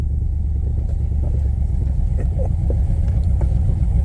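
An old car drives along with its engine running and the choke not yet set right, giving a steady close low rumble with light clatter throughout.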